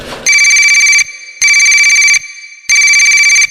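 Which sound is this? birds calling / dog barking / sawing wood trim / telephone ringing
telephone ringing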